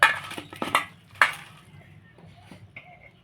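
A large spoon clinks against a bowl while scooping in cornflour to bind greens in a home kitchen; a few sharp metallic taps come near the start, then quieter scraping and small knocks.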